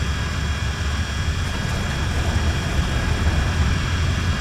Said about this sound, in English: Fire up our right engine.